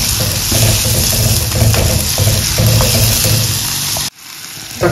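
Onion and tomato sautéing in a pan for Kerala-style onion sambar, a steady loud sizzle with stirring scrapes that drops out abruptly near the end.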